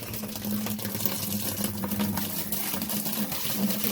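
Water pours and trickles steadily from an irrigation pipe into a bucket, a continuous splashing flow with no voices.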